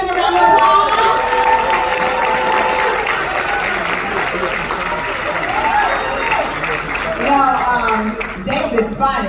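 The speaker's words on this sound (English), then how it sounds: "Give them a round of applause." A crowd at an event in a Crowne Plaza hall gives sustained applause, clapping mixed with some cheering and chatter, while voices speak over it.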